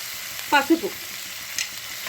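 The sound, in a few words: onions and curry leaves frying in oil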